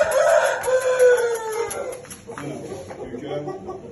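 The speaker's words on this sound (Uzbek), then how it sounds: "Mana xo'roz." A champion fighting rooster crows once, loud and close, a long drawn-out call that trails off, followed by softer clucks and background noise.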